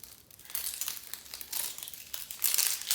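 Dry outer onion skin being peeled off by hand in a kitchen, a run of close, crisp papery crinkling and tearing bursts that grow louder toward the end, with no talking.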